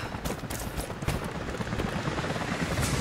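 Helicopter in the Rise of the Tomb Raider video game, a steady loud rotor drone thick with low rumble and scattered sharp cracks like gunfire, continuous for the whole stretch with no talk.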